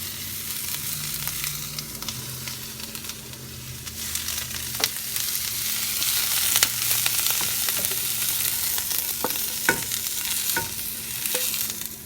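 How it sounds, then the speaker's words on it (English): Sautéed vegetables go into a pot of Portuguese kale soup amid a loud, continuous sizzle and crackle, with occasional clicks and scrapes of a spoon against the pot, close up and without voices. "now my vegetables are sauteed, so I'm going to go ahead and add those as well"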